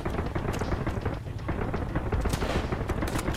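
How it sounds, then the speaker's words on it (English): Enemy machine gun fire in the Sunkenland video game, dense rapid bursts of gunshots with booming impacts, loud and continuous without talk. "They have a machine gun, I can already hear that."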